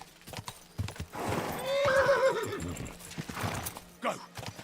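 Horse in Kingdom Come: Deliverance 2 whinnying loudly mid-clip amid hoof clip-clops, with a soft voice coaxing the animal over the game sounds.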